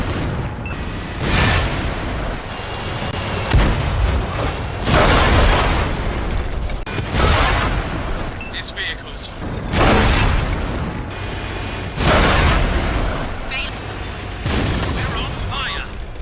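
Artillery fire and shell explosions in the World of Tanks console game: repeated loud booming blasts roughly every two seconds over a rumbling battle din, with voices speaking throughout.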